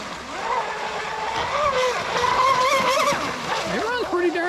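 An RC boat driven by 6S 22-volt 250C battery packs runs at full throttle on water, its shrill motor whine rising and shifting in pitch over splashing, with a person talking throughout.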